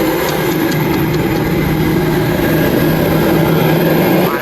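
Loud, steady broadband engine roar from an aircraft after landing at Delhi airport, a continuous dense rumble and whine with no voices heard over it.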